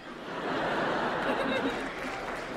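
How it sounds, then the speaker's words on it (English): An audience at a live comedy show applauds, a brief swell of clapping mixed with scattered laughter and chatter, rising then easing slightly over a couple of seconds. "I don't know why you would applaud that."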